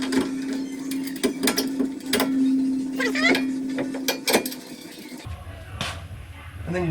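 A hand ratchet tightens the front KONI shock mount bolts on a Hemi Ram 1500, quick clicking bursts coming close up in irregular runs, with a steady hum underneath and a lower rumble near the end.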